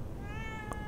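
A cat meows once, briefly and clearly, inside the horror video game The Evil Within 2, set against a steady low game ambience.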